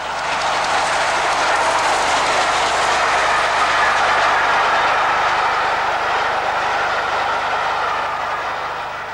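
A4 steam locomotive passing on the line near Abbots Ripton, a loud continuous rushing roar of the train that holds steady and then slowly fades at the end.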